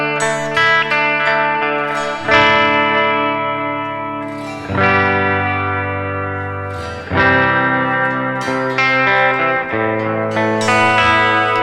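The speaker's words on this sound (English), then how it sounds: "See, very nice sounding deluxe reverb." Clean electric guitar through a Deluxe Reverb amp model on a Nux Trident multi-effects processor, ringing chords struck every couple of seconds and left to sustain and decay, loud and close with no talk.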